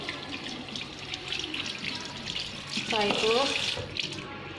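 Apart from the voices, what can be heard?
running tap water while washing hands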